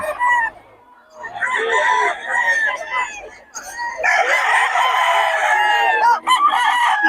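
Young gamecock stags crowing in repeated, overlapping calls, close and loud, with a brief quieter gap before the crowing swells again and fills the rest of the clip.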